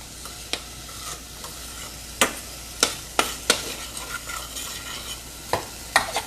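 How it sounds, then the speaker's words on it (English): Onions sizzle steadily in a hot pan, broken by several sharp scraping clicks from stirring at irregular intervals; no voices. "You can hear the sizzling of the onions."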